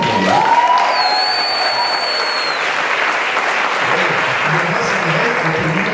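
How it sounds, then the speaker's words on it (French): Steady applause at a student cabaret evening greets two storytelling performers, a loud, even wash of clapping lasting the whole stretch, with a brief whistle-like tone rising above it early on. "c'est Lourdes et Mireille qu'on peut applaudir"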